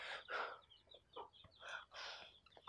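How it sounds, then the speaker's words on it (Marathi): A rooster clucks and calls in short bursts. The calls are fairly faint and well spaced, with quiet gaps between them and no talk. "अरे फुलचंद म्हणजे तो नाही होय कोंबडा बाजनाचा."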